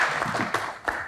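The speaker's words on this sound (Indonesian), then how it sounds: "kita berikan tepuk tangan sekali lagi untuk Tasya." Audience applause for Tasya Kamila at a studio talk show, a short burst of clapping with a couple of louder swells, fairly close and steady throughout.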